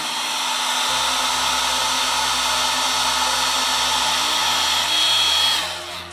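A carbon ski boot shell is heated around the heel cup and cuff with a hair dryer or heat gun, whose steady loud blowing roar runs throughout and dips slightly near the end.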